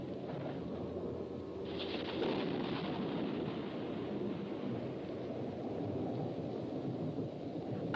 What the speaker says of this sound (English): The storm is building in intensity.